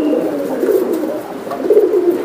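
A pigeon coos at a pigeon market, several low throaty rolling coos close by and fairly loud, with no talking over them.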